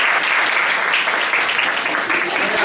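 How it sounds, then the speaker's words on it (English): Dense, steady applause fills the hall from an audience at a campus public debate, continuous and fairly loud throughout with no voices standing out. "So can we give a round of applause to our student debaters?"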